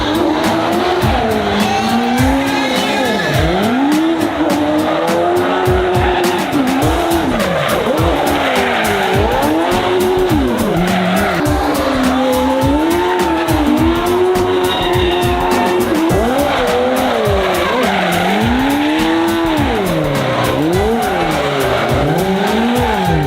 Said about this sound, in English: we saw insane cars doing burnouts all week